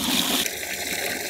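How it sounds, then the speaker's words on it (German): A sand filter pool pump runs during backwashing, pushing dirty water into a bucket with a steady, loud rushing gush close by and no voices. "Und jetzt kann ich meine Sandfilteranlage nämlich einfach mal wieder einschalten und das dreckige Wasser kommt auch schon in den Eimer rein."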